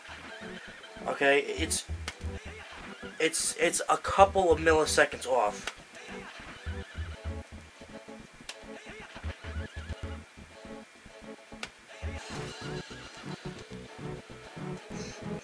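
Horse neighing in an emulated video game played with a Logitech F310 gamepad, a loud whinny near the start followed by rhythmic clip-clop hoofbeats and game sounds, with someone talking over it.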